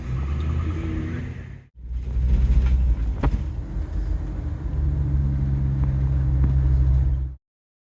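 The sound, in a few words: public bus driving along a road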